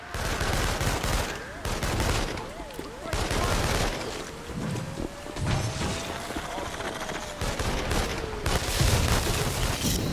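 Repeated bursts of gunfire and crashing impacts from the video game Infamous Second Son, loud and dense across the whole stretch, layered over game effects and music.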